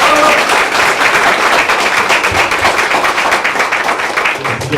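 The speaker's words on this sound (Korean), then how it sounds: "여러분 다시 한번 박수로서 시작하도록 하겠습니다" A room of supporters applauds to open a Korean press conference, loud and close, with dense rapid clapping that holds steady for several seconds.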